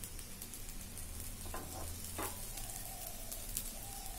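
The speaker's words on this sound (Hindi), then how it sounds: "अभी दोसा थोड़ा सा फ्राई हो रहा है" A masala dosa made with atta fries on a tawa with ghee, giving a soft, steady sizzle with faint scrapes and clicks, quiet and continuous with no voices.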